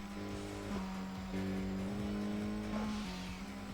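Engine drone from a car in the Tokyo Xtreme Racer video game, heard from the side view, a steady loud tone that shifts pitch several times as the revs rise and drop, with no talk over it.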